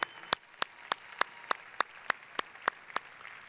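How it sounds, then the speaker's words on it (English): At a Bible college graduation ceremony, sharp claps land at a steady, evenly spaced rhythm, about one every third of a second, over a soft background wash of crowd applause. "Graduates, let's thank our families with a big hand clap here."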